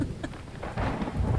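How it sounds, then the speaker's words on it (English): Thunder in a rainstorm in the survival video game The Infected, a low rumbling roll over a steady wash of rain, swelling louder toward the end, with no talk. "You could hear the thunder really nicely."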